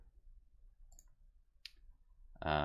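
Mouse clicks while stepping through a simple interactive story on a computer, a single sharp click near the middle, faint and isolated over quiet background hum, with a louder tonal sound at the end.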